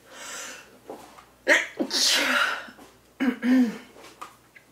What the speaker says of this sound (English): it's funny that I'm sneezing all of a sudden because I haven't sneezed all day